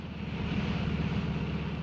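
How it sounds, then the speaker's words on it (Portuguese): An airplane landing at Montpellier-Méditerranée airport: a steady, loud engine drone with a rough low hum, continuous without a break. "desviando de um avião que está pousando"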